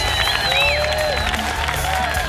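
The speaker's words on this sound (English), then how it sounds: "A big round of applause for the greedy guy, Kai Lennig, trying to win everything" Outdoor crowd at a SUP race world series finals cheering and applauding for the winning paddler, a steady wash of noise with whistles and shouts rising over it, while a voice talks underneath.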